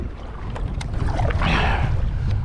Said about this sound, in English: as you can see, the wind is blowing pretty nicely